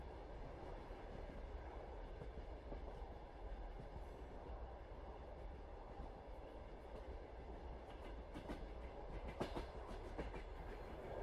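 Soft, steady rumble of a night train rolling over rails in winter, a continuous low drone with faint rhythmic clickety-clack of wheels on track joints, growing slightly more pronounced near the end.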